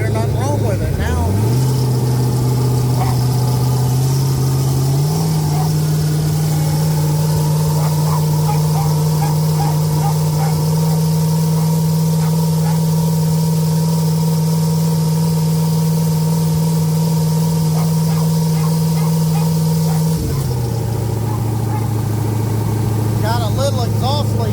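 Turbocharged 5.3 truck engine idling at operating temperature, a loud, steady low hum close by with a brief rev shift near the start and a drop in pitch near the end, with a slight exhaust leak.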